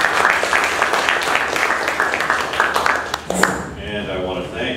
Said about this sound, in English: I'll put a round of applause for Doug.